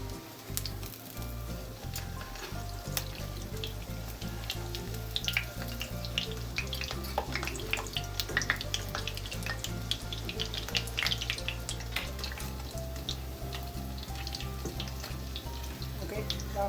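Potato patties fry in hot oil in a home kitchen, giving a steady, close sizzle with crackling pops that runs throughout, with faint water-like hiss and no clear talk.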